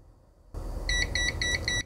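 A multimeter set to the wrong DC or AC voltage mode beeps in a rapid series of four short, bright tones over a steady low hum, close and fairly loud.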